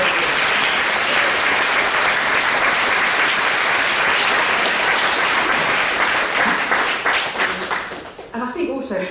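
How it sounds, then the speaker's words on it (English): An audience at a summer lunch applauds teachers and staff, dense sustained clapping that fills the room for several seconds, then thins and fades as a voice begins speaking near the end. "So perhaps we can give them a round of applause"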